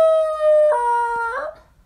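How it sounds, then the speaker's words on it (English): A dog howls on command with one long, clear, loud howl that shifts pitch partway through and trails off, close to the listener with no talk over it. "if I tell him to sing, he'll just howl forever"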